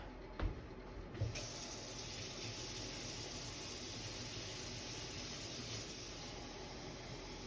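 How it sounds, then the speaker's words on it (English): Water running from a tap into beef base for canning, a faint steady stream with a couple of soft knocks at the start, heard alone in a quiet kitchen. "Add some water to it."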